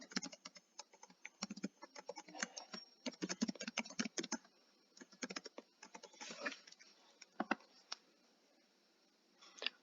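Rapid, irregular clicking of keys on a computer keyboard as login details are entered, close and fairly clear, with short pauses between bursts and no talking.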